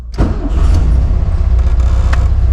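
A 1972 Karmann Ghia engine makes a hot restart, catching after a brief crank and settling into a steady, close, low idle rumble with no talking.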